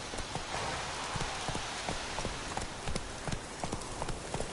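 Hooves clip-clop rapidly from a galloping horse in The Witcher 3, an even, rhythmic patter against a constant rain-like hiss, fairly quiet throughout.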